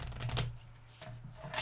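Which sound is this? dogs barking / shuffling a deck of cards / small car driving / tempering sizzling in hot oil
shuffling a deck of cards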